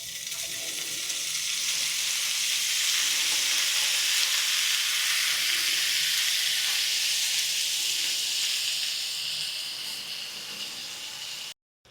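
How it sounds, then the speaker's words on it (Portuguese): Ground beef sizzling steadily in a pan of bacon fat topped up with olive oil, a loud continuous hiss that swells and then eases slightly before cutting off near the end. "Agora eu vou terminar de fritar essa carne"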